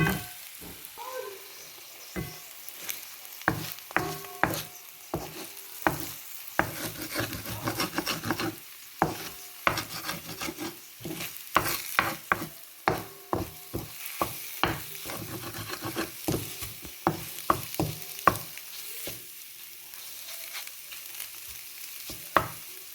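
Yum Yum instant noodles stirred in a pan to mix in salt: steady scraping and clicking strokes against the pan, with a light sizzle underneath. The strokes come in irregular bursts throughout, close up, with no talking.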